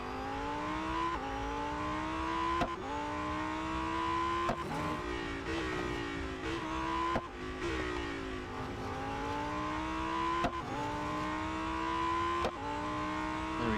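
A Lamborghini Huracan STO in Real Racing 3 on a short autocross run, its engine revving steadily up and down through repeated gear shifts, with occasional tire squeal and no talk.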